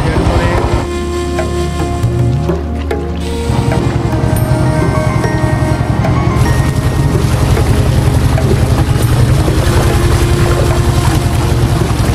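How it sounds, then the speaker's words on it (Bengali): A river boat's engine chugs steadily and loudly on a crossing to a river island, a rapid mechanical pulse running throughout with some clatter near the start. "আমরা এখন নৌকা তুলবো সবাই। এ হলো আমাদের নৌকা।"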